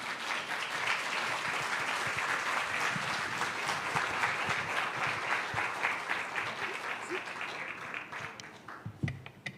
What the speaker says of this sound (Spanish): un aplauso para doña Julia.